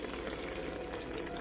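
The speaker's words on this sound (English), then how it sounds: "I have mixed up 1 tablespoon of cornstarch and 2 tablespoons of water. I'm just going to add this in" Cornstarch and water slurry being poured into a pot of boiling pork chop gravy, a soft steady bubbling and liquid hiss, brief and faint.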